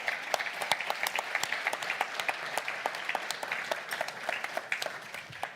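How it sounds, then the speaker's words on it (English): A crowd at a party conference applauds steadily, many hands clapping in a dense, even patter that fades slightly toward the end. "We'll just give another round of applause for our keynote speeches this morning."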